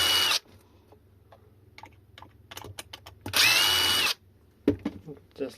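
A power drill backs out the small screws on a 36V 20Ah e-bike battery case, two loud whirring bursts at the start and middle, separated by quieter clicks and handling noises.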